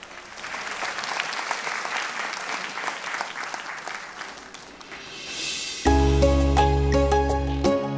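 Applause for a singer at a music performance, a crowd clapping steadily for several seconds before a sustained instrumental note and music cut in loudly over the fading claps.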